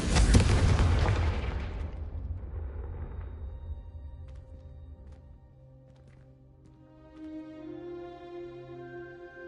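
A Confringo fire spell from a Harry Potter wizarding game bursts in a loud, close explosion that rumbles and fades over a few seconds, followed by faint clinks and a soft ambient musical tone.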